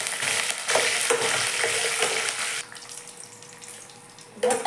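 Curry leaves dropped into hot oil burst into a loud, bright crackling sizzle that fades to a quieter steady fry, then flares again briefly at the end, close and without voices.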